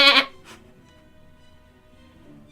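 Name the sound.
sheep bleating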